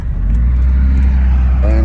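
Truck engine on a test drive, a loud, low, steady rumble that builds as the driver accelerates, with a voice talking over it near the end.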